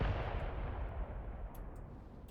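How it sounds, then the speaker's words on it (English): Artillery shells land in the Graviteam Tactics war game as a deep, rumbling boom that fades out. A few faint, sharp cracks sound over the decaying rumble. "I'm hearing some artillery dropping"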